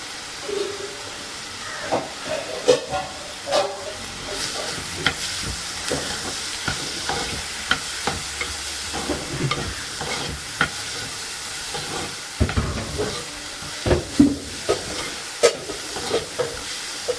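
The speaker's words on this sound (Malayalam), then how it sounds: "കുറച്ച് ഉപ്പുപൊടി ഇട്ട് വഴറ്റി കൊടുക്കാം." Fish curry ingredients being sautéed with salt in a pan give a steady, moderately loud sizzle, broken by intermittent scraping stirs and clinks throughout, with no talking.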